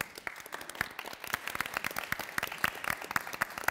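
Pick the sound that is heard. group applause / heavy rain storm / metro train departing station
group applause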